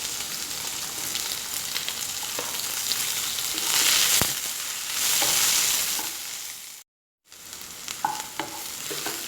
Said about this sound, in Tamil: வெங்காயம் பாருங்கள் இந்த அளவுக்கு வதங்கிட்டுருக்கு.